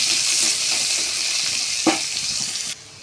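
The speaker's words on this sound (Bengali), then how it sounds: "নাড়াচাড়া করে হালকা করে ভাজিয়ে নেব।" Chopped onion and two dried chillies frying in oil, stirred in a pan for a potato and pointed gourd dish, producing a loud continuous sizzle with occasional utensil scrapes before the sound cuts off abruptly near the end.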